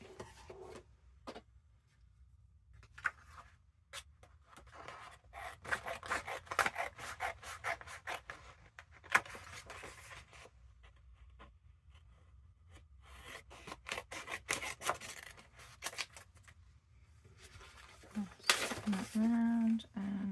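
Scissors trimming old envelope paper at a craft table, with quiet intermittent snips and rustling of paper, soft and close, spread across a low-level background.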